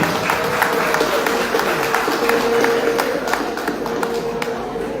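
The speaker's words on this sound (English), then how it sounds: "One more round of applause for them, please, ladies and gentlemen" Outdoor crowd applause at a reunion opening parade, a moderate continuous spatter of clapping from many hands with sharp individual claps standing out, steady throughout.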